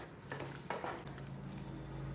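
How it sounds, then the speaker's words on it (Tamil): A spoon scrapes and stirs through a thick mango pachadi mixture with added water in a pan, with a soft steady sizzle underneath. "நல்லா கலந்து விடுங்க."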